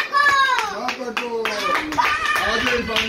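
Family members clap together to welcome a father at an Eid family gathering, with a voice and other talking mixed in over the steady applause throughout.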